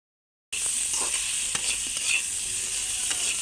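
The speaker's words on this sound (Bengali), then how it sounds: "সেই একই তেলে বেগুনগুলো ভেজে নিব।" Eggplant pieces seasoned with salt and turmeric frying in oil: after a short silence a steady, close sizzle starts and carries on with faint stirring taps, no voices.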